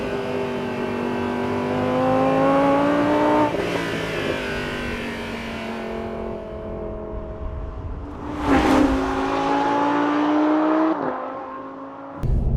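A Lamborghini Huracan's engine drones steadily and close while driving on a road, rising in pitch through gentle acceleration with a brief burst near the middle and another lift toward the end, no talking over it.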